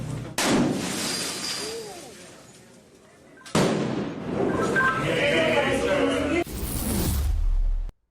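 Firecrackers set off at a protest outside judicial offices: sharp loud bangs followed by crackling bursts and noisy echoing crowd ambience, with a final abrupt blast.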